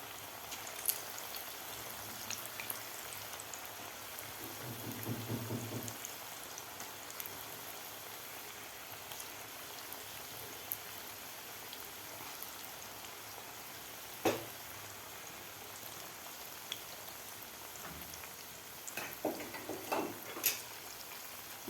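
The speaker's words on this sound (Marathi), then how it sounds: "तर आता आपल्याला पकोडे सोडून घ्यायचे आहेत." A kadhai full of mixed vegetable pakoras bubbles gently in hot oil, a faint continuous crackle with a brief louder burst early on and a few sharp pops later, no voices.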